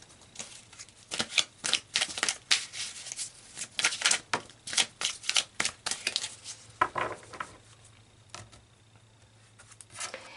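Tarot cards riffle and slap in quick bursts of shuffling, then a few softer, scattered flicks as individual cards are pulled, close and crisp.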